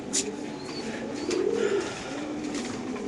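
Pigeons at a pigeon farm, with a soft low cooing call from nearby birds over a steady background hum and faint chirps.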